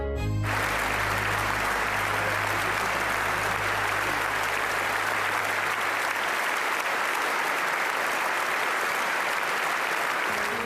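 Sustained, dense applause from a large crowd at the reopening ceremony of Notre-Dame Cathedral in Paris, a steady wash of clapping that holds at full strength throughout, with a low hum fading out early on.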